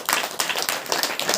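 A church congregation at a Hindi-language Christian prayer meeting claps hands in a quick, irregular burst of overlapping claps, close and fairly loud, lasting only a moment.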